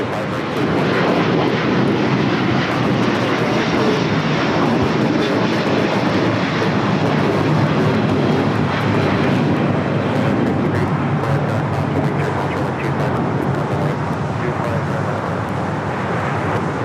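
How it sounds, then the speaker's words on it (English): A Japan Airlines Airbus A350-1000 rolls down runway 25 right for takeoff, a loud, sustained jet engine roar that swells and stays heavy throughout. "We have the Japan Airlines 350-1000 now rolling on 25 right"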